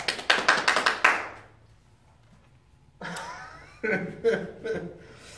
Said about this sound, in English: I can make your hands clap.